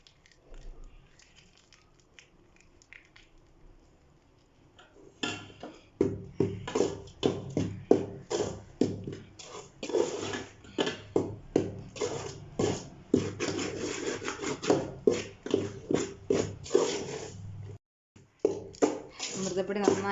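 Amritam nutrimix powder roasting with ghee in a pan, stirred steadily with a spoon. The stirring makes repeated close scraping strokes in a brisk rhythm that starts after a quieter opening and continues with a brief pause near the end.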